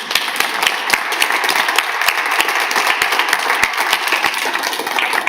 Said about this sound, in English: Can I get one more applause for our amazing cast?